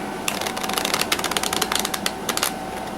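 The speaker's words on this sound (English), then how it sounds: "we're going to shuffle face-up cards into face-down cards" A deck of playing cards is riffle-shuffled, face-up cards into face-down ones, giving a close, crisp run of fast flutters and clicks that bursts for about two seconds and then stops.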